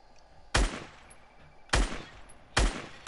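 Three loud, evenly spaced sniper rifle shots in a playground video game match, each a sharp crack with a short decaying tail, ringing out alone over quiet background.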